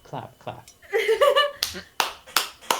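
A few sharp hand claps ring out near the end, loud and close, following a stretch of talking.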